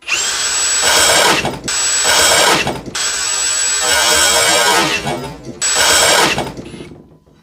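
Ryobi or CAT cordless drill driving a hole saw at speed 1 on the maximum torque setting, four loud whining bursts with brief stops between them, close up, the last one winding down.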